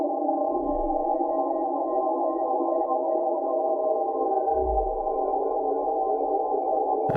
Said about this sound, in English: start up the gain here until that goes into oscillation